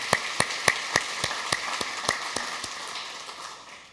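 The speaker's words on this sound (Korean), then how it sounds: "다시 한번 하나님께 감사의 박수 올려드리겠습니다." A church congregation claps in applause of thanks during a Sunday service, a burst of fairly even claps that gradually thins and fades over a few seconds.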